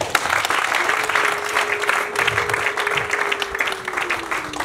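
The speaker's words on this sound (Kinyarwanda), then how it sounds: "mwabihaye amashyi" Steady applause from a crowd at a Rwandan wedding fills the whole stretch, with a sustained tone running underneath for most of it.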